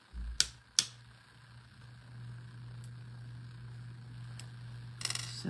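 Scissors snipping buttons off fabric, two sharp close clicks near the start, a couple of fainter taps later and a rattling cluster at the end over a steady low hum.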